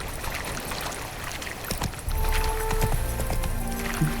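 A horse gallops in the Witcher 3 video game, its hooves thudding in a quick rhythm that grows louder and closer partway through, over game background sound.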